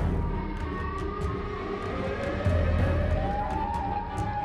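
A Siren Head creature gives a wailing siren call, rising tones gliding upward over a low rumbling background, fairly loud and sustained for several seconds.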